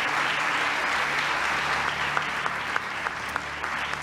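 Sustained applause from an audience at the International Women of Courage Award ceremony, a steady dense wash of clapping with a few sharper individual claps standing out toward the end.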